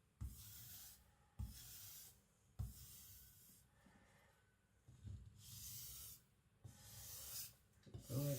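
A knife drawn along a coarse strop that grabs the blade during sharpening, giving about six rasping, hissy strokes in a steady rhythm with short pauses between them, close and moderately loud.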